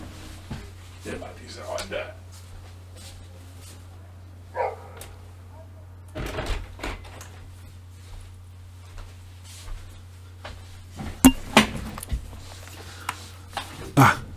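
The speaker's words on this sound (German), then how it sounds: "Ah, es war der Hund. So ein, weiß ich nicht, ein fetter Labrador?" A fat Labrador barks in short, intermittent bursts, with a cluster of sharper barks toward the end. Someone talks over a low, steady background hum.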